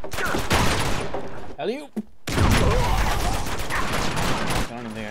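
Bursts of AK rifle fire in the Uncharted 2 video game rattle loudly and densely, nearly continuous. A short quiet gap interrupts them, and a voice briefly speaks over the shooting.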